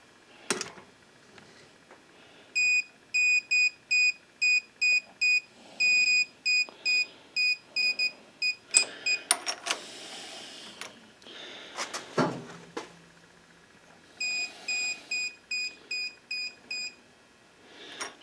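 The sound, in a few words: Carlisle torque wrench beeping at 200 inch-pounds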